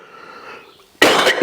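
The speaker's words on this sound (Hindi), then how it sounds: "खांसी आ जाता बच्चों, क्षमा प्रार्थी हूं" A sudden, loud burst of coughing, two harsh explosive bursts close together after a quiet moment with faint background hum.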